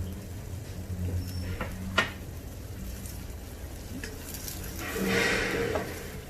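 Tomatoes and salt stirred in a pot, a steady close scraping and shuffling texture with one sharp utensil knock and a brief louder swell of stirring near the end.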